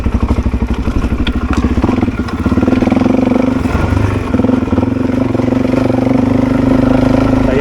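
Suzuki DRZ400 dirt bike engine chugging at low revs while rolling down a loose, rocky track, steady close thumping with clattering knocks and brief throttle blips, no voices.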